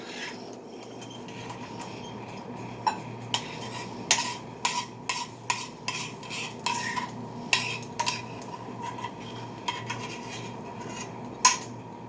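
Gravy being stirred in a metal pan on the stove: a spoon scrapes and clinks against the pan in irregular taps and strokes, close up, over a low steady hum, with no talking.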